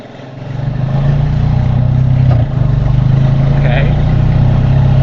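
Side-by-side UTV engine running steadily while driving off-road, a loud, continuous mid-pitched drone that rises in the first second and then holds, with a brief dip partway through.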